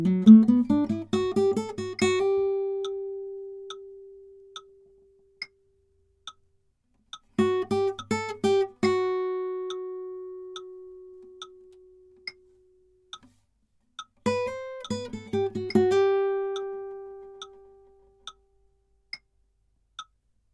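A guitar plays three short phrases of quick picked notes, each ending on a held note that fades out, with silence between the phrases.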